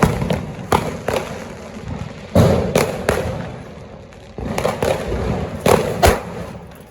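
Firecrackers bursting at a late-night Diwali celebration: a run of sharp thudding bangs at irregular intervals, some close and loud, over a rumbling background of distant blasts.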